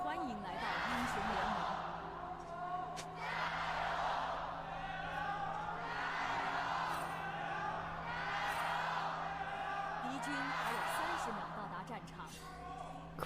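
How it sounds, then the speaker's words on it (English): Loud esports arena crowd roaring in swelling waves at a League of Legends match, continuous dense cheering and whooping with a steady low hum underneath. "Crowd is loud."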